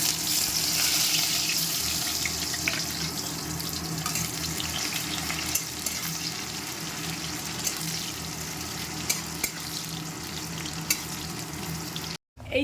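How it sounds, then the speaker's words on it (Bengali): Meat is rinsed under a running kitchen tap, a steady close rush of water with splashing and handling noises throughout, cutting off abruptly near the end. "আর মাংসটা ধুয়ে জলটা একটু ঝরিয়ে নিই"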